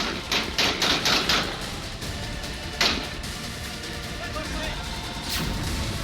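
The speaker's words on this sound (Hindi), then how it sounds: "तालिबानी आतंकी उस पर गोलियां बरसाकर मार देते हैं" A quick burst of Taliban gunfire in Panjshir, Afghanistan: several sharp cracks in rapid succession, then a single louder shot, with a rough noisy background throughout.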